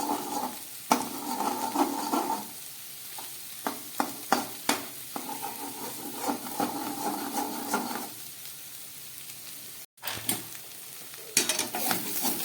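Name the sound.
vegetables frying and being stirred in a pan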